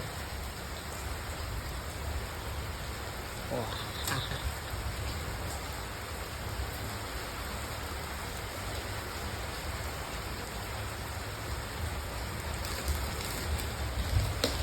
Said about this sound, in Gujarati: જોઈ લો વરસાદ ચાલુ થઈ ગયો છે